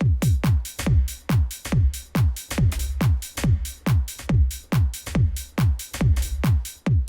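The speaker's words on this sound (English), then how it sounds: "I got this snare sound up. I want to put this on the offbeat" A swinging electronic drum groove with kicks and a crisp snare hitting the offbeats, left unquantized, repeating steadily with a loose, shuffling garage feel.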